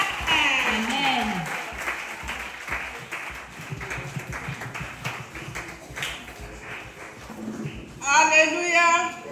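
A church congregation applauding during a service, clapping rising and continuing under a voice and a tonal sound, growing louder near the end.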